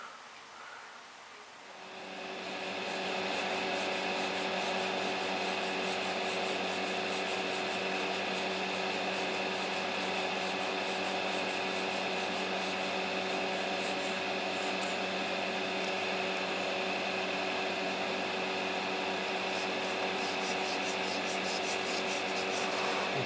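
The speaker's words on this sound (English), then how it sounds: "I'm gonna have to start doing some filing and sanding and such" Steady back-and-forth filing and sanding on a small hard plastic model kit part, a continuous close rasping that starts after a quiet moment and runs without pause.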